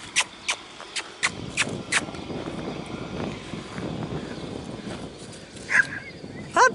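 Puppies yipping and squeaking in short high bursts, starting as several sharp separate yelps, then a busy stretch of shuffling and scrabbling, with more whimpers near the end.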